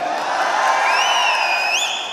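A large crowd cheers and roars loudly and steadily, with high whoops and whistles rising over the din.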